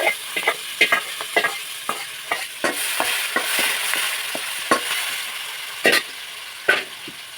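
Oil crackles and spits in a pan while paneer pulao is being cooked, with a steady sizzling bed broken by sharp popping bursts and scraping stirs throughout, fairly close and loud, no voices.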